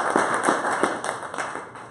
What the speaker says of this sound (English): Please give a round of applause to our education team